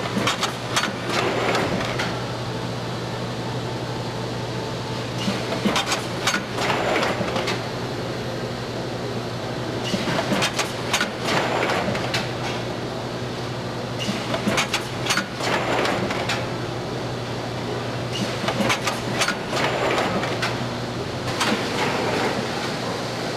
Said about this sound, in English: As the rolls of bags are loaded, the photo eye is blocked and the machine will complete one cycle.